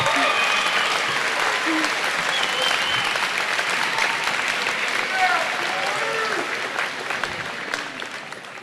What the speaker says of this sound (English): Give them a big round of applause and a hoot and holler, please.